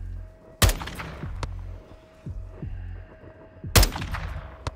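Gunfire in Call of Duty: Modern Warfare 3, two sharp, loud shots about three seconds apart, each with a ringing decay, separated by quieter thuds and distant battle rumble.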